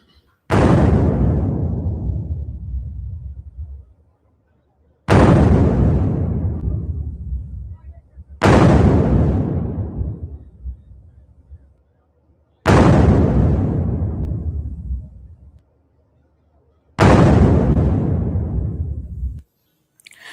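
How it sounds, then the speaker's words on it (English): Five heavy blasts of Iranian missile launchers being destroyed, each a sudden loud boom decaying into a long rumble over several seconds, spaced about four seconds apart with quiet between them. "Iranian missile launchers getting blown up."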